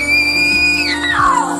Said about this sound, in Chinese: 一声惨叫过后